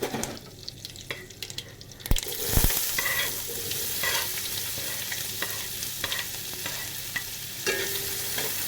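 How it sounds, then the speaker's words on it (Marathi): Finely chopped curry leaves and onion fry in a pan, a continuous crackling sizzle that swells sharply when the onion goes in, with repeated stirring clatters and no speech. "कढीपत्ता तुकडे करून टाकते बारीक आणि आता टाकते कांदा"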